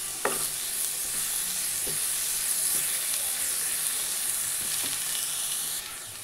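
Turmeric and Kashmiri red chili powder fry in a hot pan with a continuous bright hiss and sizzle and a few faint scrapes of stirring, with no voices.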